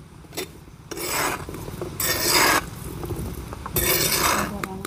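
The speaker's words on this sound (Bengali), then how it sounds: "দেখো, বালির সঙ্গে ভালো করে কাঁঠালের আটির সঙ্গে এভাবে নেড়ে চেড়ে এপিট ওপিট করে দেবো" Jackfruit seeds being stirred and turned over in hot sand in a pan, a coarse gritty rasping and scraping that comes in several loud bursts with short quieter gaps between strokes.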